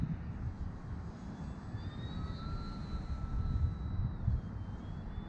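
A small FT Bushwacker RC foam airplane climbing in strong wind, its electric motor whining as a thin rising and falling tone above heavy wind buffeting on the microphone.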